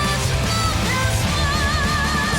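Piano riffing in a song, dense, loud and continuous, with sustained melodic lines over a full heavy metal band backing.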